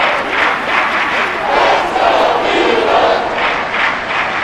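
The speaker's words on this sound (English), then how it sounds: "this crowd is making an impact right now" Stadium crowd roar from a Madden NFL 24 American football game between Washington and Philadelphia, a loud, sustained wash of cheering that swells and ebbs steadily without pause.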